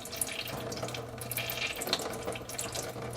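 Hot engine oil drains from the filter of a Ford 2.5L four-cylinder Duratec engine during an oil change, a faint, steady trickling stream with small splashes.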